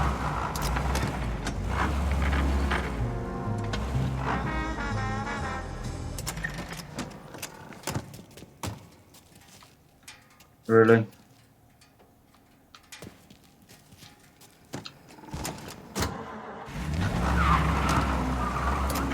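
A car in the video game Mafia drives with a steady engine drone, then a quieter stretch with clicks and a brief loud burst before the engine returns; one short spoken word.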